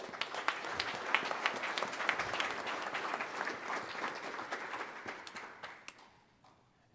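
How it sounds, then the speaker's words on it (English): Audience at a tech stream clapping for a presenter, a dense round of applause with sharp individual claps poking through, gradually thinning and fading out toward the end. "let's give another round of applause to Wei."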